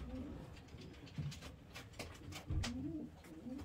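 Young pigeons in a loft give soft, low coos, with a couple of brief bubbling calls over quiet background noise.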